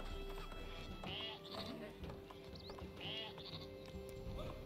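Sheep bleating in the strategy video game Northgard, several short wavering calls spaced a second or two apart over a busy in-game ambience with faint clopping.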